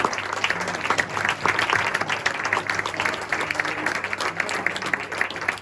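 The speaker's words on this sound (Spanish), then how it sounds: "un aplauso porque esto ha sido tremendo." An audience at a conference of community leaders applauds after a talk, sustained clapping from a crowd in a hall, fairly full and even, with voices murmuring underneath.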